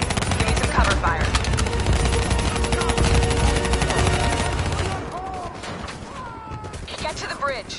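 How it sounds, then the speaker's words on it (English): Rapid machine-gun bursts of cover fire in the Black Ops 3 video game, dense and loud for about five seconds, then easing into quieter battlefield noise with scattered shots. "Give me some cover fire."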